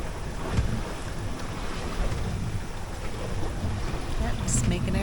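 A sailboat beating upwind at about 13 knots across flat seas, with a steady, broad rush of wind and water around the hull and gusty wind buffeting the microphone throughout.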